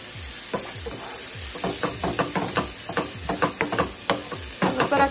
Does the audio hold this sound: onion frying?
yes